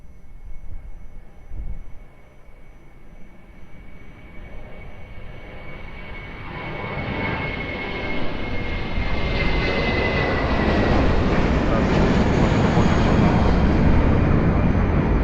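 A Boeing airliner takes off from runway 02 at Lisbon Airport, its jet engines starting low and distant, then swelling into a loud, sustained roar that builds steadily and peaks as the aircraft passes close by.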